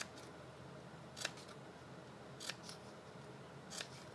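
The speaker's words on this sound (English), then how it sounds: "we're going to cut up on each one of these score lines and then kind of notch out a" Scissors cut paper along score lines on a small card about 3 by 4 1/4 inches. Three crisp, quiet snips come at even intervals over a soft room hush.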